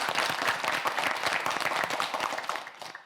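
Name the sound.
audience applause for a quiz show student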